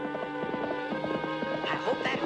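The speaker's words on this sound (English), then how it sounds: "Our only chance is to stop the knight's horse." A knight's horse in a cartoon scene clip-clops along in a quick rhythmic run of hooves, moderately close, with people talking over it.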